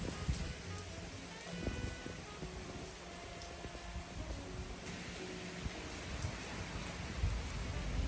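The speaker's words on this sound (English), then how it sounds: "You can hear the rain, and look at the trees." Rain from Hurricane Beryl on an island, a steady soft hiss of falling rain on surfaces heard from indoors or nearby, fairly faint with occasional light knocks.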